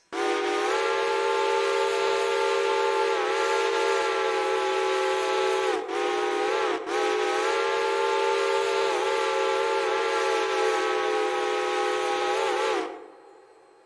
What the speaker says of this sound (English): We have a B&M 6 chime